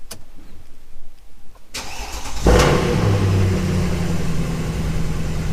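A limited-series sports car with a 6.3 engine cranks and fires up after a quiet stretch. It catches with a loud burst and a rev, then settles into a deep, rumbling idle close by.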